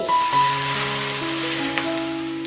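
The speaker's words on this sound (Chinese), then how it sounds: "再泼上热油，激发出香气" Hot oil poured over sliced chili rings, chili flakes, minced garlic and white sesame seeds, giving a close, steady sizzle and crackle under a faint background tone.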